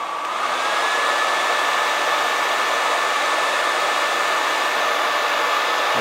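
A hair dryer running at over 1850 watts blows a loud, steady, close whooshing roar with a faint whine, switching on at the start and holding unchanged throughout.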